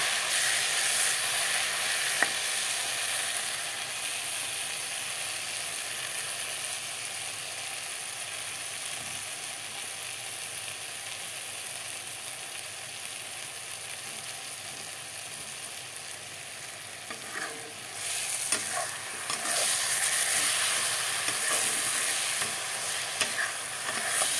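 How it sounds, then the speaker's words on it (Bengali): Dried fish fries with spices in a pan for a chutney, giving a continuous close sizzle with occasional stirring scrapes and clinks throughout. "সব কিছু একসাথে দিয়ে এখন ভাজা ভাজা করে নেব"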